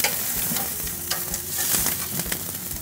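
A steak sizzles loudly and steadily on a Napoleon Phantom gas grill, a dense close crackle with small pops and no voices.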